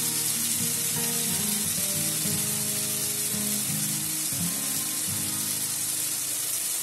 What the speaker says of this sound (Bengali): দু চামচ মতো জল দিচ্ছি মশলাটা কষানোর জন্য